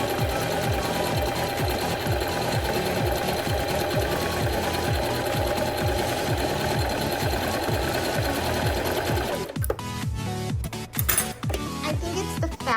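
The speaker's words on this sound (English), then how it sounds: "I'm going to set my machine to the zigzag. I'm going to try a zigzag stitch." A Singer Prisma Heavy Duty sewing machine runs a zigzag stitch in a fast, steady mechanical chatter close by for about nine seconds, then stops, leaving scattered clicks and handling knocks.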